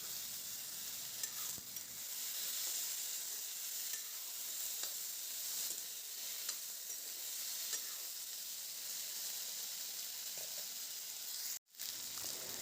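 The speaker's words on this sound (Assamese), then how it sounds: "কচুখিনি অকণমান দেৰি আমি ভালদৰে ভাজি থাকিম লৰাই লৰাই।" Taro pieces frying with ginger, garlic and coriander give a steady, bright hissing sizzle throughout, broken by occasional stirring scrapes and a brief dip near the end, with no talking.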